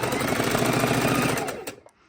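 Longarm quilting sewing machine stitching a quilt, a steady rapid needle rhythm running loud and close for most of the moment before cutting off, leaving faint residual clicks.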